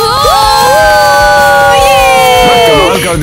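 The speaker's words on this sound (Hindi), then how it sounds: "लड़कियों, जितना चाहो चिल्लाओ" A crowd of girls shouts and cheers loudly and close by, with long sustained high-pitched screams and whoops that swell together, then break off near the end.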